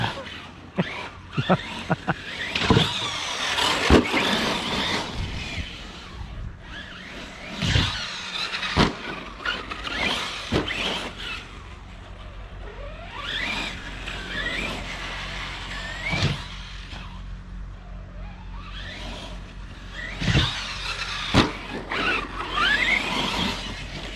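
A Corally Kronos RC car with a 2050kv motor running, its electric whine rising and falling in repeated bursts with squeals and mechanical rattles, close and loud over roughly twenty seconds, with people talking now and then.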